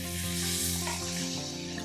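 Hot water hits roasting semolina in a pan for halwa, giving a loud, steady sizzle and hiss with a continuous low hum beneath, no voices.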